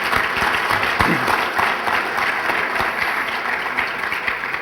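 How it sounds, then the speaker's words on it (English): An audience at a Democratic Party dinner claps with sustained, dense, even applause from many hands filling the room, with no pauses and no clear voices over it. "I think you deserve another round of applause"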